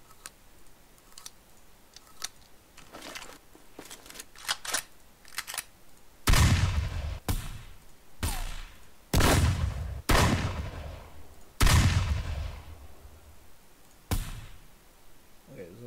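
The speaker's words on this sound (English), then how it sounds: "assault rifle" Assault rifle gunfire from an Unreal Engine 4 FPS sound asset, first a few quieter shots, then loud separate single cracks, each with a ringing tail, spaced about a second apart.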